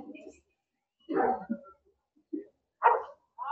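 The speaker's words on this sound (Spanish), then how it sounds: "Algún perro se enoja por ahí." A dog barks and yips somewhere nearby during a church mass on the Feast of the Immaculate Conception, giving several short, moderately loud barks separated by brief silences.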